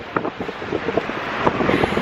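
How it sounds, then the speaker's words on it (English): Strong wind buffets the microphone with a steady rumbling roar, gusting slightly louder at moments, with no other clear sounds. "it's so windy and sunny"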